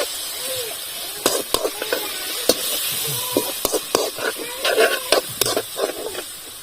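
Tomatoes are stirred into a hot frying pan for a crab curry. Loud, steady sizzling runs throughout under a voice, broken by repeated scraping and clacking of the stirring utensil against the pan.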